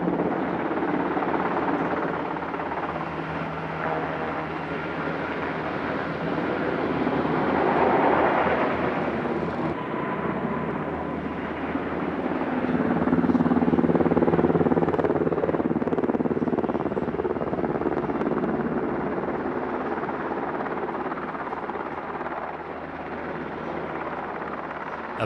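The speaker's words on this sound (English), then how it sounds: "The Seahawk has 2 turboshaft engines driving a 4-bladed rotor." A Seahawk military helicopter's twin-turboshaft whine and four-bladed rotor thrum rumble steadily from a moderate distance at an airshow, swelling louder midway before easing off again.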